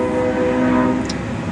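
A train coming through near the Platte River, a loud steady rumble with a sustained tonal drone, close and continuous, with no voices.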